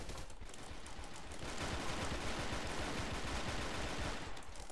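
Rapid, continuous gunfire and impacts in a first-person shooter, a dense rattling barrage filling a few seconds at fairly low level, alone without talking.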